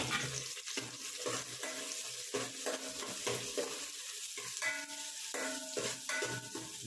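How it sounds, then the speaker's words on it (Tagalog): Beef skin sautés with garlic and onion in a pan, soft sizzling under frequent scraping and tapping of a utensil against the pot in an uneven rhythm, fairly quiet and close, with no speech. "igisa natin sa bawang sibuyas siyempre para medyo bumangon ng kaunti"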